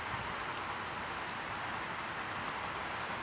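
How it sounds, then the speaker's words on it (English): A heavy rain downpour in New York, a dense continuous hiss of water pouring down, steady and loud from start to finish with no voices. "downpours where you get like half an inch to an inch of rain in like 10 minutes."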